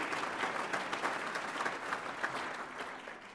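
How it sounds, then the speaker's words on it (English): A moderately distant room of diners claps steadily at a chamber of commerce annual awards dinner, a soft continuous patter of applause with no speech over it. "give it a nice round of applause"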